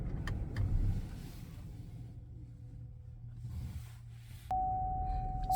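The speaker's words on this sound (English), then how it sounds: "I'm going to turn the car off and show you what rear seat reminder does" A Cadillac XT6 idles quietly with a low rumble before being switched off. A steady electronic chime tone then starts and holds to the end.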